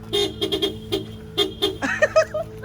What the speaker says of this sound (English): Those are some really bomb honking skills